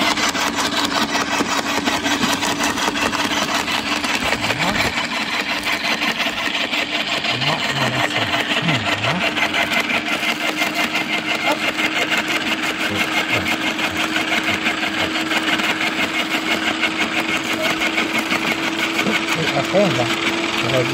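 A wood chipper runs steadily, loud and continuous, as a larger branch is fed through for shredding, with a constant engine drone and rough grinding throughout, and people talking in the background.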